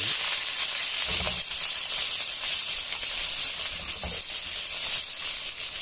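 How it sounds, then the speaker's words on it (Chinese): Hot oil left from frying fish fillets heating in an iron wok, giving a steady bright hiss and sizzle throughout with a few brief stirring or spattering bursts, close and without talk. "利用铁锅加热，倒入刚才煎鱼排的油"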